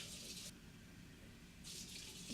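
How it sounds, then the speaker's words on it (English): Water pours from a tap into a blender jug while cooking lentil moin moin, a steady close hissing stream that stops briefly midway, then resumes. "this is the second cup of water"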